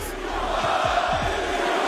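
Wrestling crowd at WWE WarGames jeering a botched pinfall, a loud sustained arena roar of voices with a few deep thuds underneath, continuous through the clip.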